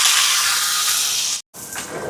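Steady loud sizzling and hissing of dried prawns frying in hot oil, close up, with a brief break before the crackle resumes.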